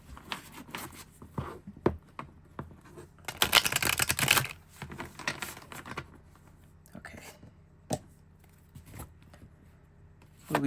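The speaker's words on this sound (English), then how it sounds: "3 shuffles with the deck" A tarot card deck shuffled close by in bursts of rapid papery riffles and taps, with a long dense shuffle near the middle and soft whispering at times.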